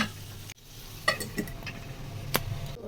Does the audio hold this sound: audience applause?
no